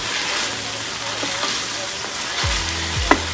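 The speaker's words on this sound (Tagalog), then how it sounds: "Lutuin natin ang alamang ng maayos." Shrimp paste (alamang) frying in a pan for pinakbet, a steady close hiss of sizzling oil with the soft scrape of stirring and a couple of brief utensil knocks near the end.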